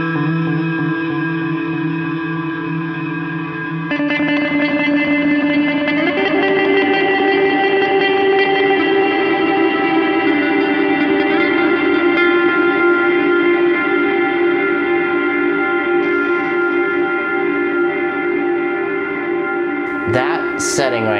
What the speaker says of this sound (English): Let's jack the tone up, and let's put the reverb all the way up